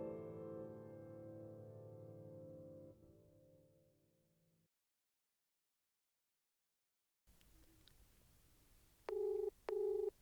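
Music fades into silence, then a telephone call is dialed: two short, clear electronic keypad beeps sound in quick succession over faint background hiss.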